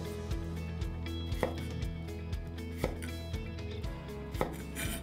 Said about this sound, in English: you cut a little piece of ginger and a little piece of